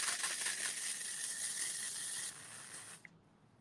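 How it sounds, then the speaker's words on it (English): Hairspray hissing from an aerosol can onto hair in one continuous close spray that cuts off near the end, followed by a small click and quiet. "You want to move the hair while you are spraying."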